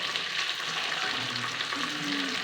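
Sliced onions and tomatoes sautéing in a pressure cooker for Ambur biryani, giving a steady close sizzle and crackle of hot oil with faint stirring, no voices.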